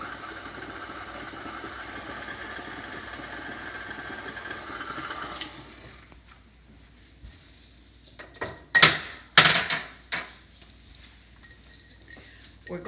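Cream being mixed in a bowl for vanilla cupcake batter: a steady whirring drone runs for about six seconds, then cuts out, followed by a few sharp clinks and knocks of utensil against bowl.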